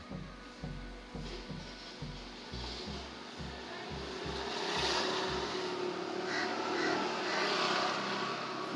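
A 2020 four-stroke Bajaj auto rickshaw engine revs after a carburetor cleaning, with rapid low thudding firing pulses that speed up and blend into a loud, sustained roar, close and without talk.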